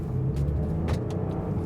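A Porsche Cayenne Coupe cruising in Sports Plus mode, a steady low engine and road rumble from inside the cabin, even and moderately loud over the brief stretch.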